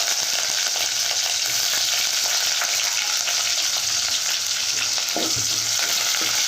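Garlic, dried red chillies, onion and curry leaves frying in hot oil for a dosakaya tomato dal tempering, a loud continuous sizzle with occasional stirring clinks.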